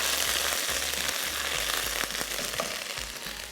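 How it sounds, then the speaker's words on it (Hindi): Green chilies fry for balti gosht with a dense, steady sizzle that stays loud and close throughout, with faint scraping under the hiss and no voices. "इसके साथ साथ हरी मिर्चें, इनको हमने भून लेना अच्छे से"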